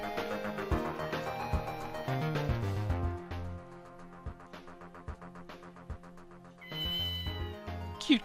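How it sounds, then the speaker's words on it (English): A cat in the video game Ghost Trick gives several clear meows over looping game music, with the cries scattered across the passage. "Cute kitty."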